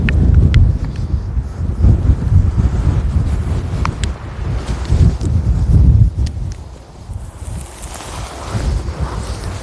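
Strong outdoor wind buffets the microphone in loud, uneven rumbling gusts that rise and fall, with faint clicks scattered over the top.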